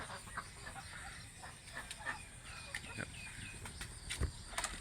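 Chickens cluck on a rural village farm where ducks and cattle are also raised. Several short clucks and calls pop up at a moderate distance over a low, constant background hum, with no talk.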